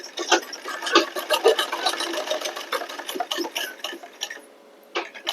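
A sewing machine stitches a belted blouse, running in close, steady bursts of rapid needle clatter that pause briefly before starting again.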